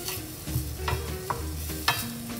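Grated coconut cooking in ghee in a pan with a soft, low sizzle, punctuated by a few light scraping stirs of a spoon across the metal.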